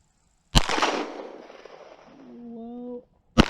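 Sig P250 pistol fired slowly with reloaded ammunition, two sharp loud shots about three seconds apart, the first trailing off in a long echo, with a brief voice between them.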